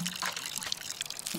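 Water pours and splashes steadily onto a potted plant in the game Botany Manor, a close, continuous liquid rush lasting just over a second with no talk over it.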